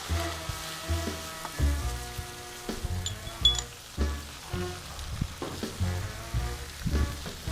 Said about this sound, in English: I'm going to be adding all of our wine.